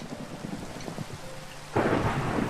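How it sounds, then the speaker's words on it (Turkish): A lightning strike in Minecraft hits with a sudden loud crack and a rolling thunder burst about halfway through. A softer rain-like patter comes before it. "Çok pis bir şimşek çarptı abi."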